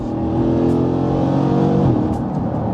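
Jeep Cherokee SRT V8 engine revving hard nearby, a loud deep roar that climbs and holds before easing off, with no talking.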